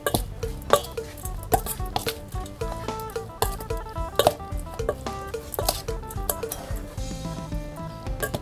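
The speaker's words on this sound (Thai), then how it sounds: "จากนั้นก็คนให้เข้ากันนะคะ" Crying tiger beef salad ingredients are stirred together, with a steady series of clinks and scrapes from a utensil against the dish repeating about twice a second.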